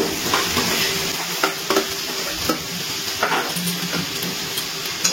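A spiced cabbage curry with tomato and fried potatoes being stirred in a sizzling pan, with a continuous crackle and a run of light scraping knocks as the spoon works through the mixture.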